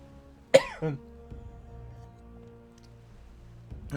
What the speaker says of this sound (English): That cough crept up on me out of nowhere